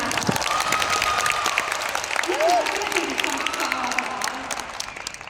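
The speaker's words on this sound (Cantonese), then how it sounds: "後面嘅伙伴俾啲掌聲嚟聽下" Sustained applause from an audience at a corporate business gathering, a dense wash of clapping that runs the whole time with voices mixed in.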